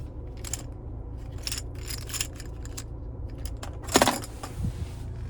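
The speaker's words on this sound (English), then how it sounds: "Finally, here's the key fob with remote start." A remote-start key fob for a 2026 Ford Ranger Lariat FX4 is handled, its keys jangling and clinking in short bursts, close and fairly quiet, with one sharper metallic clatter near the end.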